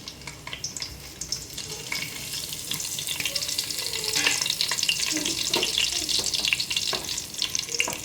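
Whole spices sizzle in hot oil, a dense steady frying hiss that grows louder midway, with occasional stirring clinks and no talking.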